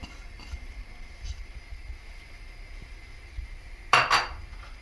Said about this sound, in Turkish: Şimdi hemen soğanlarımı ekliyorum.